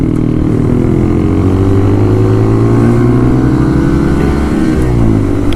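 A Honda Grom and a Kawasaki 125 ride together with engines droning loudly and continuously, their tones overlapping and shifting slightly as they hold speed, close by with no talking.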